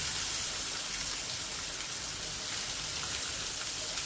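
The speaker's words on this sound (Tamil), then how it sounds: "வெங்காயம் போட்டுக்கலாங்க" Onions dropped into hot oil with mustard seeds and cumin for a Tamil potato poriyal, giving a loud, steady, dense hiss that runs unbroken throughout.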